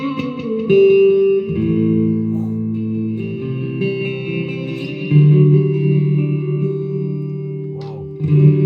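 Electric guitar played through a Fender Mustang LT25 amp with delay and high reverb, sustained notes and chords ringing out with echoing repeats, loud and close, no talking.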